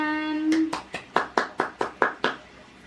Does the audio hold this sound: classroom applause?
yes